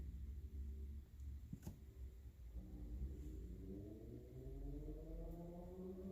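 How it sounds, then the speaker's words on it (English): A loud motorcycle engine rumbles steadily, then revs with rising pitch as it passes outside, loud and continuous, with no talking. "I don't know if you guys can hear loud motorcycle in the background."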